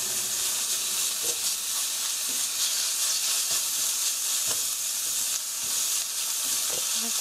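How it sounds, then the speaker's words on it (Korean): Ground pork and chili powder stir-fry in a hot pan for a tofu sauce rice bowl, giving a steady loud sizzle with occasional scraping stirs of the spatula throughout. "볶아주시고요. 너무 오래 하면 고춧가루가 타니까 여기에 그라운드 포크 고기 넣어주시고요."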